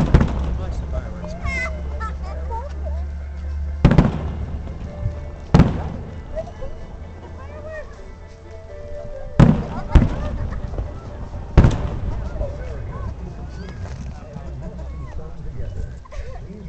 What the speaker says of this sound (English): Watch the fireworks.